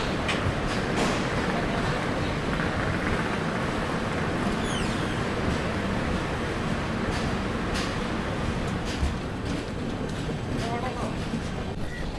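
The Kanyakumari Pune Express pulls out from a South Indian station, a continuous loud rumble with steady clattering of wagons, sharp metallic squeals and rattles breaking through and people talking faintly in the background.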